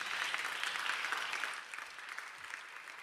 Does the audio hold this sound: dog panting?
no